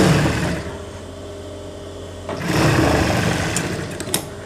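Sewing machine stitching the sleeve seam of a simple kameez, a steady close mechanical whir that runs throughout, easing briefly and then rising again, with no voices.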